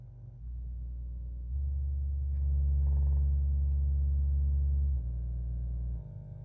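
A low test tone plays through a refoamed Baby Advent II speaker, stepping up and down in level in steady blocks, clean and sustained with no voice over it.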